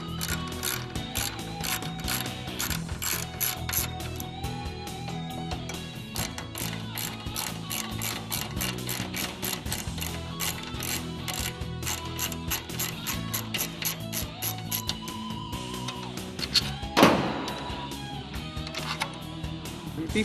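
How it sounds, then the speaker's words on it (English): Steady mechanical clicking and ratcheting from an Allen tool backing out the two large bolts that hold a JLG LiftPod gearbox to its frame, continuous and close, with a brief louder clank near the end. "We now have to put the 5mm Allen screw on to take off the 2 large bolts that hold the gearbox onto the frame."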